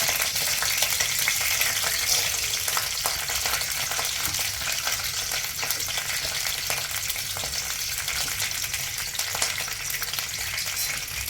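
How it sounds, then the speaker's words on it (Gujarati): Peanuts fry with curry leaves in hot oil in a pan, giving a loud, continuous close sizzle and crackle throughout, with no one speaking. "હવે થોડી મગફળી નાખીશું આપણે"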